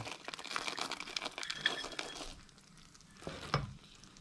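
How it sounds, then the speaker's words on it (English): Roughly chopped pistachio nuts being tipped and stirred into hot caramel in a pan, giving faint crinkly rustling, soft scraping and a light clink or two, quiet and close with no talking. "I've just got half a cup of sort of roughly chopped pistachio nuts, and I'm just going to throw them into the caramel."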